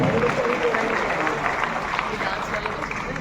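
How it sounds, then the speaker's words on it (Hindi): Audience applause at a naturopathy day seminar in an indoor stadium in New Delhi, a dense, steady wash of clapping from a large crowd that holds at an even loudness throughout, with crowd noise mixed in. "हम जोरदार तालियों के साथ भोला सिंह जी का"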